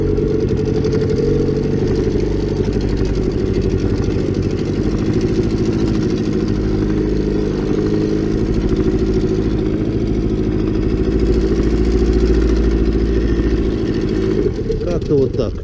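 An outboard motor drones steadily as a boat runs along the Pechora river through a shallow riffle, a loud, close, unbroken low engine rumble lasting the whole stretch and easing slightly at the very end.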